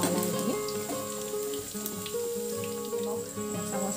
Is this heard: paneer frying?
yes